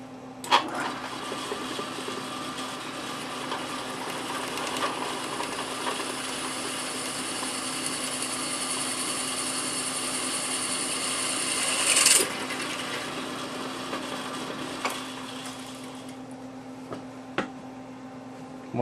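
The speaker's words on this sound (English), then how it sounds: "And drill the middle hole." A drill bores the middle hole in an AK47 scope rail: a steady grinding hum runs for several seconds, swelling briefly near the end of the cut, with a few sharp knocks and clicks around it.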